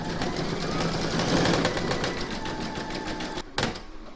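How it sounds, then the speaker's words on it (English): An embroidery machine stitches zigzag and satin stitch around the edges and joins of a square scalloped placemat, a fast, continuous mechanical chatter heard close up that shifts slightly near the end. "you're going to stitch round number 12, and that's going to do the zigzagging and satin stitch all around the edge and over the joins."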